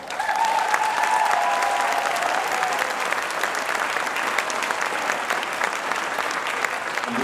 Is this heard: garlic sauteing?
no